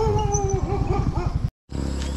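A dog whines and yelps in high, wavering cries over a steady rhythmic rumble of a Honda Fazzio scooter ride, then a short silence and a low background hum.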